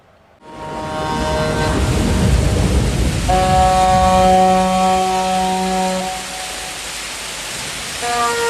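Steady heavy rain roaring like a downpour on an empty city street, with a low rumble and a sustained tonal hum through the middle.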